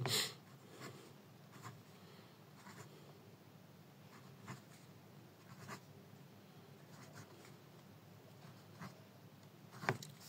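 Marker strokes on a classroom board while writing out a multi-digit number for a sixth-grade maths lesson, heard as faint intermittent scratchy squeaks spread over several seconds in a quiet room, with no talking.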